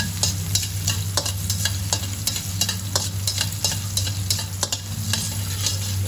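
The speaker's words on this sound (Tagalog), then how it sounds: "Palagay na natin yung ating bawang. Malakasan ko yung aking kalan." Garlic sizzling and frying in a pan on a stove turned up high, a steady close crackle with repeated sharp scraping stirs throughout, no voices.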